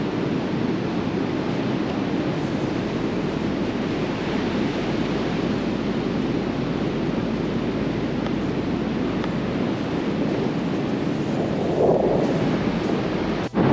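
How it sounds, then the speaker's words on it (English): Strong wind roaring steadily through a sandstone arch, a dense continuous rush close to the microphone with buffeting gusts, swelling slightly louder near the end. "The wind is blowing a real hoolie through here at the moment"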